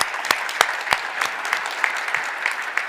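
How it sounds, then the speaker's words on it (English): Steady audience applause at a startup seed night event, dense clapping throughout with a few sharper individual claps standing out, loud and close with no voices. "That's so we can applaud them."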